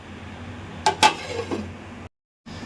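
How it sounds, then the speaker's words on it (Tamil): A metal lid clinks onto a pot of simmering fish curry in a home kitchen, two close, sharp clatters followed by a lighter settling knock, with no talking. "இப்போது அப்படியே மூடியை போட்டு குழம்பு நல்லா கொதிக்க வச்சுருங்க"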